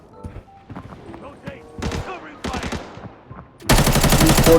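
Gunfire in the shooter game Arena Breakout: scattered shots and short bursts sound under excited talk, then a loud, sustained automatic burst fills the end.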